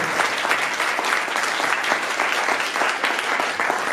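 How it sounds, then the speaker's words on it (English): An audience gives a warm, sustained round of applause for a panel of speakers at a session on sales in schools and colleges, the clapping dense and uniform throughout with no speech on top. "Shall we please give a warm round of applause to Dr. Andy Ray, Harriet Machado,"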